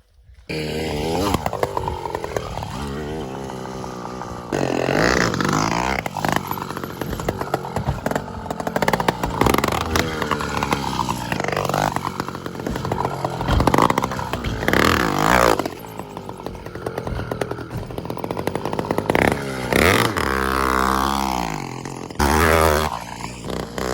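A motorised bike engine buzzes and revs loudly over dirt jumps, its pitch rising and falling in repeated surges as the rider throttles up and eases off, close and continuous with brief dips.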